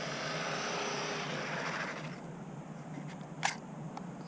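A GPTOYS McGruff 926 RC truck racing past at high speed, a whining motor buzz that is loud at first, then fades as it moves away, with a brief sharp clatter near the end.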